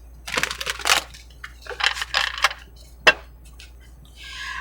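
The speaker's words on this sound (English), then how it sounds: "2 more shuffles." Tarot cards are shuffled in several quick riffling bursts, close and crisp, with a sharp snap near the end and a soft rustle after it.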